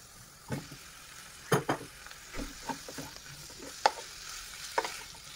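Food with tomato stirred in a hot frying pan, a soft low sizzle under repeated scraping and clinking strokes of a utensil, fairly quiet and close.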